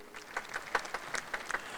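Audience applause at a Swami Ramdev talk on Patanjali products, a faint, brief patter of scattered hand claps heard from a distance.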